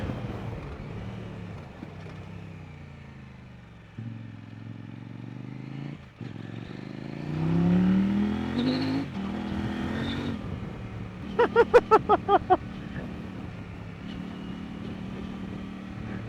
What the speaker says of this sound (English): That engine sounds fantastic.